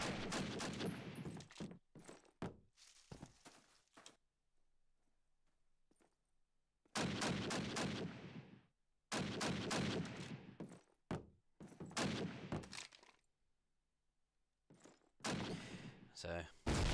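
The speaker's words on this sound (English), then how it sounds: "Karma getting a headshot and takes down Ambik." Gunfire in a Call of Duty video game match during a competitive esports tournament, with bursts of rapid automatic shots separated by pauses and a commentator talking at times.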